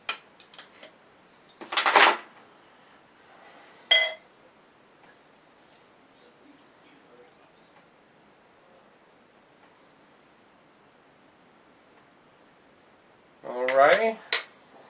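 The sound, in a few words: removing the cap from a pumpkin ale bottle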